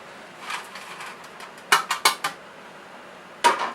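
Egg noodles are worked with a fork and spoon, the metal utensils clinking and scraping against the dish in a few sharp, irregular knocks with soft rustling between, and no voices.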